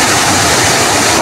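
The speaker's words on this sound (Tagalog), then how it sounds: "Tingnan yung bagsak niya sa gitna yan oh" Floodwater swollen by heavy rain upstream rushes past in a loud, steady roar that fills the whole moment without a break.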